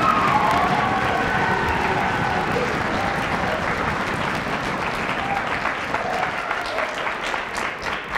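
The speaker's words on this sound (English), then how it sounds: "so I want to give them a round of applause." A full house of parents applauds at a high school winter music concert, continuous close applause that holds steady, then thins slightly toward the end.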